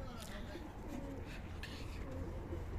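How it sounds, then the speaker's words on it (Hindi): A pigeon in Riyadh, Saudi Arabia, coos softly a few times amid a steady ambient hum, with someone speaking over it. "ये आ गया हमारा वैशी कबूतर।"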